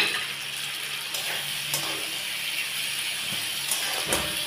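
Chopped green chilies fry in a pan, giving a continuous soft sizzling hiss with a few sharper crackles and a brief clatter near the end, close and moderately quiet.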